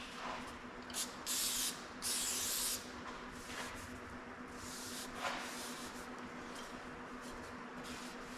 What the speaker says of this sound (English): Just put some brake clean on a rag and we'll wipe that off.